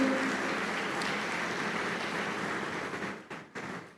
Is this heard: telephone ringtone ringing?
no